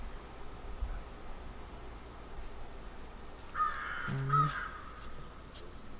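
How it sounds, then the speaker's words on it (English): Crows cawing outdoors on a snowy day, two or three short harsh calls in quick succession at a distance over faint ambient hiss. "And you can hear the birds."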